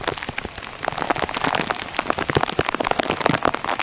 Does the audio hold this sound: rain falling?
yes